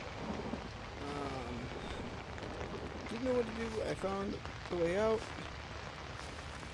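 Steady rain with rumbling thunder in the horror video game Outlast, a soft continuous wash under someone talking in the foreground.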